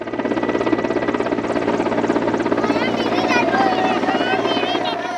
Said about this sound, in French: on utilise régulièrement les hélicoptères en lien avec nos partenaires UNAS et EcoFlight pour le transport des médicaments